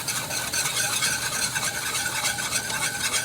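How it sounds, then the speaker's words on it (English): Flour is whisked into melted butter in a pan over medium-high heat. A continuous close, bright scraping hiss with a faint sizzle underneath holds at an even level throughout, with no talking. "get your butter melted, and then you are going to add 3 tablespoons of flour. Just whisk that up really,"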